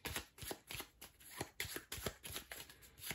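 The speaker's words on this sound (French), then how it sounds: "Alors, je vais reprendre 2 cartes." Playing cards drawn and handled during a solo game of the Dinoblivion board game, a quiet, close sequence of soft rhythmic card slides and snaps repeating roughly every half second.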